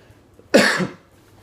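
A single sharp cough, close and fairly loud, rising suddenly out of near-silence and fading within half a second.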